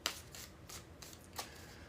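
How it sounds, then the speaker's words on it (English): Tarot cards shuffled back into a deck by hand, a few quick riffling bursts with short gaps between them, close and soft, with no talking. "We're going to shuffle these cards back into the deck."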